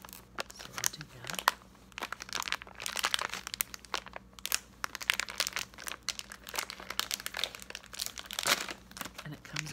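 Close crinkling and tearing of a food product's plastic package being pulled open, with crisp crunchy rustles throughout and a soft voice speaking at times.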